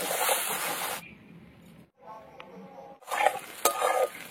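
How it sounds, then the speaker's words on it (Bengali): Chopped onions with salt fry in hot oil, giving a loud hissing sizzle that drops away briefly in the middle, then returns with stirring clatter and sharp crackles. "পেঁয়াজটাকে এবার ভালো করে একদম লাল করে ভেজে নিতে হবে"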